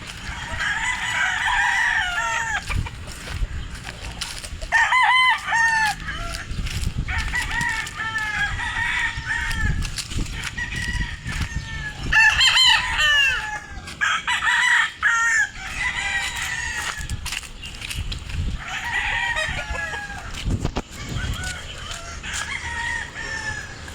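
Roosters crow repeatedly and chickens cluck at a poultry farm, a dense, close chorus of overlapping calls running without pause from start to end.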